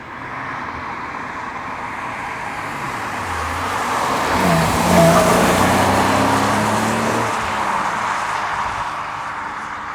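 A Porsche 986 Boxster S six-cylinder engine cruises in sixth gear at about 60 mph and just over 2,000 RPM, giving a steady, even drone heard from inside the car that swells slightly midway, with no talking.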